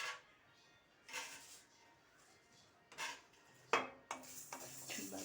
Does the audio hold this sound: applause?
no